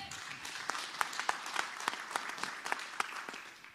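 A smaller audience at a farm automation presentation applauds, with distinct individual claps standing out in an irregular patter that tapers off toward the end.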